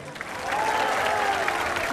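An audience at a live stage concert claps loudly, a dense burst of applause that swells and holds, with a voice faintly over it.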